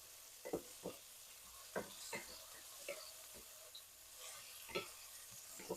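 Tomatoes being stir fried in a pan for a pork dish with salted shrimp: a faint steady sizzle with repeated sharp scrapes and clacks of stirring at irregular intervals, no talk.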